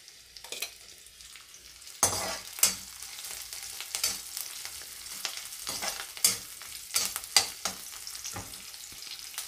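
Ginger, garlic and green chillies frying in oil, a soft continuous sizzle broken by scrapes and clinks of stirring, close and fairly quiet, with no voices.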